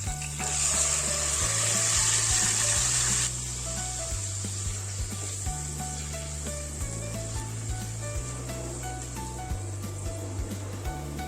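Marinated chicken and whole spices hit hot oil in a wok, giving a loud, close, steady sizzle and frying crackle that runs without a break from start to finish, with no voices.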